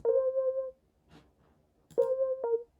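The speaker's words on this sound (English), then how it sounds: "It's like a more wah-wah-ish e-piano." Two sustained electric piano synth notes, each with a soft wavering tone, separated by a brief quiet gap with faint clicks.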